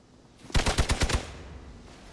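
Rapid burst of about six gunshots striking the player character in Marvel Midnight Suns, sharp evenly spaced cracks over a low background.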